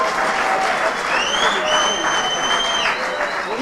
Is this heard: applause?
yes